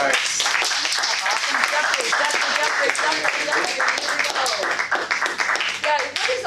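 An audience at a Toastmasters meeting applauds after a speech: dense, steady hand clapping from many people, close and loud for the whole stretch, thinning slightly near the end.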